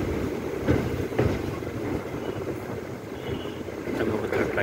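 Steady, loud rumble of a moving train recorded from a window of the Tungabhadra train near the Krishna River in Jogulamba Gadwal district, Telangana, with wind buffeting and a few louder rattling knocks throughout.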